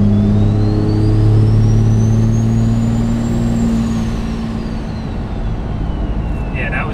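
A compound-turbo 24-valve Cummins diesel engine revs near 2,000 RPM at light throttle, with a loud steady engine drone and a high turbo whistle that rises, then falls away. Someone talks over it.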